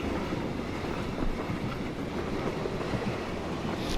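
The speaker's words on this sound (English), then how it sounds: "imagine if this wasn't Vikendi and we weren't on the train" A train rolls across Vikendi in the video game PUBG, giving a steady, even rumble with faint rhythmic clatter that lasts the whole clip and has no talking over it.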